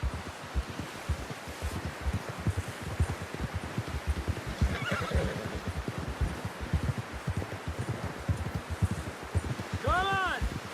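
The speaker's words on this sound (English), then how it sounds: "Someone help John down off this horse" Horses in the Red Dead Redemption 2 video game, with steady rhythmic hoofbeats at a brisk pace throughout and a clear whinny near the end, while a voice talks briefly in the middle.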